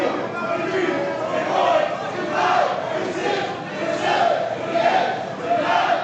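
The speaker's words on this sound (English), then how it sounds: "as the crowd counts along." Crowd at a Texas Contenders Series wrestling match chanting a count in unison, with rhythmic swells about once a second, loud and continuous throughout.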